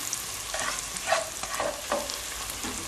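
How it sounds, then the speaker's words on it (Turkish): Tomato paste being stirred and sautéed in a hot pan for an eggplant dish, giving a steady close sizzle broken by several short scraping stirs. "Salçanın kokusu gidecek kadar kavurduk."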